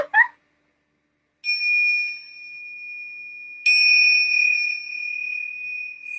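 A bell is struck twice, each strike a clear ringing tone that sustains and slowly decays, with near silence around it.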